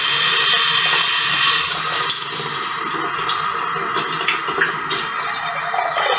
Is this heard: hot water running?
yes